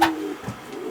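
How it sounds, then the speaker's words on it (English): Racing pigeons coo in a loft, a low steady murmur of soft, close cooing that fills the moment without any talk. "How many birds you got in this thing?"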